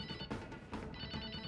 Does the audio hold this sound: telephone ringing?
yes